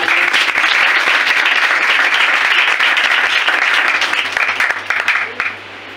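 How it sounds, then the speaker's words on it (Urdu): Loud, sustained applause from an audience at a Christian church service, steady dense clapping that holds for several seconds and then fades out near the end. "ایک بار پھر ان کے لیے زوردار تالیاں"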